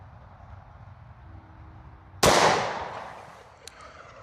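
A single sharp gunshot from a Smith & Wesson M&P Shield .40 pistol firing Speer Gold Dot 180-grain hollow points into ballistic gel outdoors, a loud crack with a decaying tail after quiet background.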